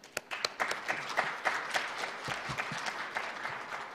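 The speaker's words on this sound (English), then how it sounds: "Please give a big round of applause to executive committee members who are struggling hard for the development of Asia-Pacific" Audience applause at an international music creators' seminar: a dense, sustained wash of many hands clapping fills the room at moderate loudness, with a few sharper claps standing out at the start and no speech over it.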